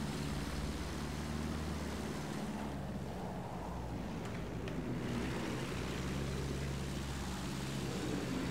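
A propeller airplane flies in a Battlefield 1 campaign flight, its engine a constant, loud droning hum with airy rushing noise that runs without a break.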